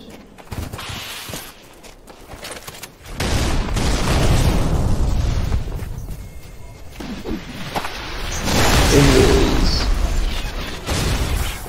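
Two grenades go off in Halo 3 online multiplayer, heavy booming blasts that swell and roll over several seconds amid game noise and a voice talking.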